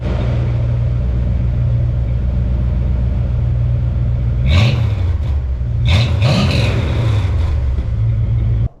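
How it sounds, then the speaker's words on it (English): A 1987 Dodge D100 pickup with a new Speedy 10 exhaust idles with a loud, close, deep rumble, then is blipped in a couple of sharp revs before settling back to idle. "Let me get you guys in a position so I can show you what this exhaust sounds like."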